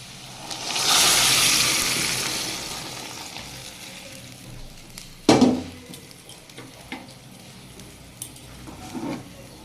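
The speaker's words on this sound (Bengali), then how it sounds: "সবজির মধ্যে জল গরমটা দিয়ে দিচ্ছি" Hot water is poured into a pan of frying carrots, turnips, beans and potatoes, and the loud sizzle rises and then fades, followed by a sharp clatter of a utensil and softer bubbling.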